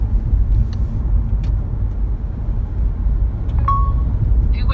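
Steady low rumble of a car driving along, heard from inside the cabin with constant road and engine noise, and a brief electronic chime near the end.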